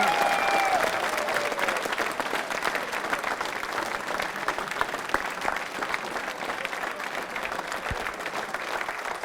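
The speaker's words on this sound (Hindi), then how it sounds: "रामधन यादव साहब के लिए जोरदार ताली बजाइए" Sustained audience applause fills a quiz show hall for accounts officers, a dense steady wash of many hands clapping at even loudness throughout, with faint voices underneath.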